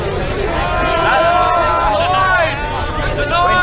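A crowd of drunk, noisy teenagers gathering at the scene of a road accident makes a loud, continuous hubbub of overlapping voices and shouts, close by and steady throughout.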